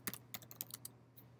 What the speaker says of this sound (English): start typing the name of the school